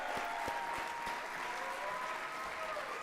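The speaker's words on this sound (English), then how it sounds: "just give them all one more great round of applause" An audience at an awards ceremony applauds a group of performers. Several sharp, close claps punch through the opening of a broad, continuous wash of clapping, which holds steady to the end with faint voices underneath.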